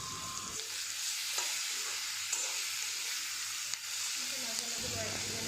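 Elephant apple (outenga) pieces fry in oil in a covered pan, a steady close sizzle and hiss running throughout with occasional faint stirring clicks.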